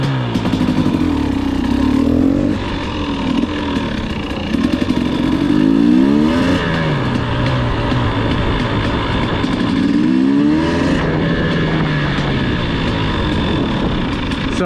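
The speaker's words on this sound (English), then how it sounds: "as soon as I made that swap, the idle sounds perfect" A 2020 KTM TPI two-stroke motorcycle engine runs steadily close by, idling with several revs that rise and fall in pitch over a continuous loud drone, with no talking.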